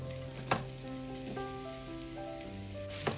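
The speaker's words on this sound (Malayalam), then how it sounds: "ഈ പഴം ഒന്ന് നമുക്ക് ഒന്ന് വഴറ്റിയെടുക്കാം" Cut Nendran plantain pieces sauté in hot ghee in a pan with a continuous close sizzle, punctuated by a few sharp stirring clinks. Soft tonal background sound runs underneath, and no one speaks.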